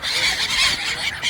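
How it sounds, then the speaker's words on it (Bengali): Many migratory birds call together at a three-river confluence, giving a dense, continuous wash of overlapping honks and squeals that stays loud for the whole moment. "প্রচুর পরিযায়ী পাখি আছে"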